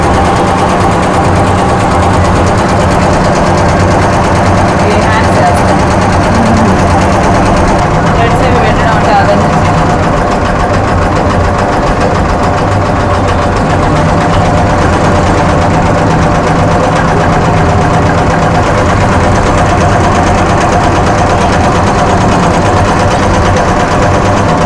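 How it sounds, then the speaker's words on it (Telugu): A computer embroidery machine with nine needles runs continuously, giving a loud, steady mechanical hum with a rapid rhythmic chatter that holds for the whole stretch. "ఇప్పుడు అసలు మిషన్ ఎలా వర్క్ చేస్తుందో మాకు చూపిస్తారా మేడం"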